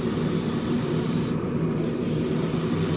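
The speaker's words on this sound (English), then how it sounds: "come back and spray the body and the hood" Spray painting the body and hood of a Revell 1971 Boss 351 Mustang plastic model kit with thinned paint, a steady close airbrush hiss running continuously with one brief dip midway.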